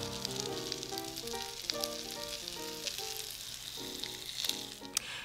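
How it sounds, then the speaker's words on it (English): A constant bright sizzle of zucchini blossoms frying in a hot pan for an omelette, close and steady, with soft music playing underneath. "I just let them sizzle for a little while."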